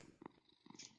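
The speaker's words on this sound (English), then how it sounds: "That was the cat purring." A cat purrs in the Minecraft video game, heard as a few soft, faint rumbling pulses in a short quiet stretch, with no voices over it.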